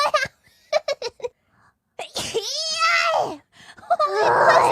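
A sneeze, with vocal outbursts and shrieks around it and more sneezing or exclaiming near the end.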